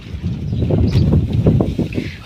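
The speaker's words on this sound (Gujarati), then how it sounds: "જો પવન કેવો છે" Strong outdoor wind in a village blusters across the microphone as a loud, low rumbling roar with gusty surges, and no one speaks.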